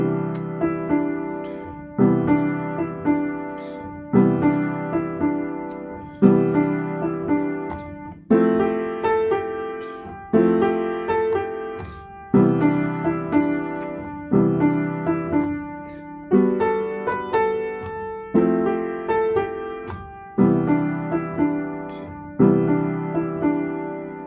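Piano blues chord progression with ninth extensions voiced in the right hand, played as steady sustained chords that restrike about every two seconds, loud and close with no talking.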